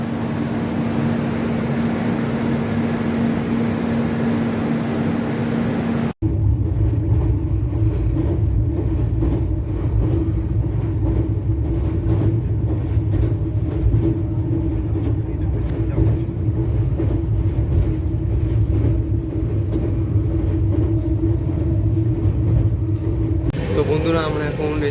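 The 12881 Garib Rath Express runs toward Puri, heard from inside as a continuous low rumble with rhythmic rattling, steady and loud throughout, with a brief cut partway.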